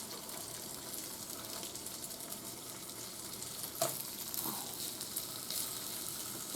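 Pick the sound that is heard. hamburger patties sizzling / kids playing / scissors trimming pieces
hamburger patties sizzling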